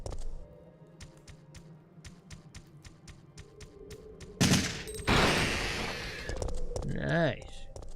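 Gunfire in Resident Evil 3: Nemesis: a steady series of sharp, regular shots, then a louder, denser burst of firing and crashing near the end, with a person talking over the game.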